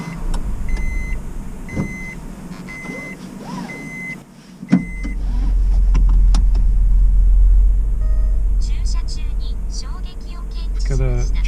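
Honda N-One kei car with a CVT, driven and heard from inside the cabin: low steady engine and road hum after a brief click, with dash cam beeps and a person speaking over it.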